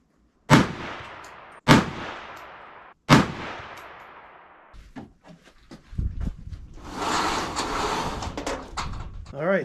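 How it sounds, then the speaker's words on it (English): Three loud, sharp rifle shots from a red-dot-sighted rifle at a shooting range, each with a long decaying echo, followed by quieter handling noise and a stretch of rustling wind or movement. "I fired 5 shots"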